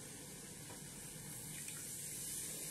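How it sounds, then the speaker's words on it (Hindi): Water is poured into cooked ragi flour in a pot while making soup, a steady continuous splashing rush from start to finish, close and alone without talk. "पानी डाल देते हैं।"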